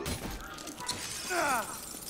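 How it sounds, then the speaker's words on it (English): Glass shattering in the video game Dead Rising 3, a short crash of breaking panes amid game noise, with a voice talking partly underneath. "I love breaking through glass, it's what I do."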